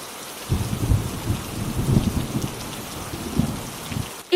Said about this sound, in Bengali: এই বৃষ্টি তো কয়েকদিন থেকে থামছেই না।